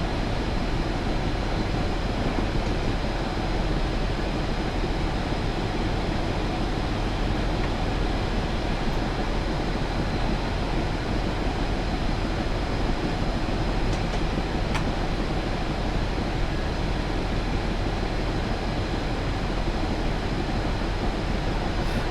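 Union Pacific GTEL gas turbine locomotive on Sherman Hill in Train Simulator, running with dynamic braking as a loud, steady, dense roar that holds unbroken throughout with no voices.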